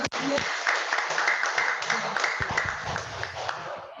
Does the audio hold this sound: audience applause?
yes